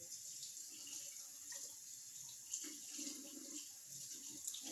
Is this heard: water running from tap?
yes